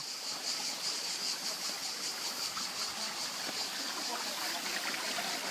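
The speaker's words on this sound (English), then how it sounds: "There's nothing more pacifying than the sound of flowing water." Naturally flowing waterfall in Apikia village on Andros, producing a steady, close rushing hiss that holds an even level throughout with no talk over it.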